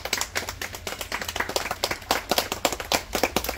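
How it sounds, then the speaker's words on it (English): A small crowd at the Miccosukee Indian Village alligator show claps for a handler named Jake: sharp, separate handclaps come in quick, uneven succession, fairly close and moderately loud. "we're going to give Jake a round of applause"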